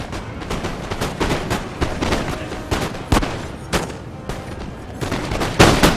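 Dense musket volleys and artillery fire in a Napoleonic battle video game, a loud, continuous rattle of overlapping gunshots with sharper booms standing out now and then, with no talk over it.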